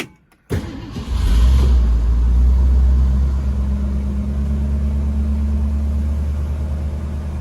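A 1966 Ford Mustang convertible V8 fires up on a cold start and settles into a loud, steady high idle, the rumble staying constant after a brief cranking burst.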